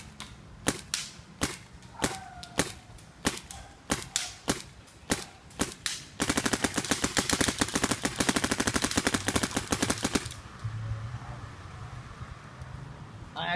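A paintball marker fires DYE Competition Grade paintballs at long range, first as a series of evenly spaced single sharp pops, then as a rapid, dense string of shots lasting several seconds before stopping, close and loud.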